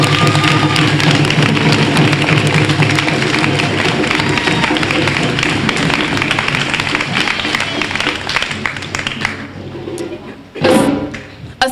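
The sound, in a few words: round of applause at graduation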